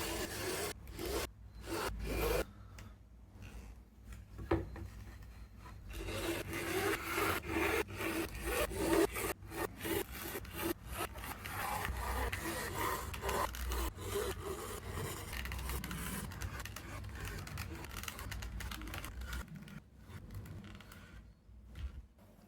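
Layers of leg armor greaves, clamped together, being hand sewn: steady rubbing and scraping strokes with repeated pulls of thread through the material, close and continuous with brief pauses.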